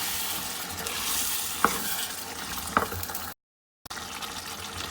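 Chicken biryani masala fried with yogurt in a pan sizzles steadily and close by, with a couple of sharp scraping stirs, a brief dropout near the end, and no talk.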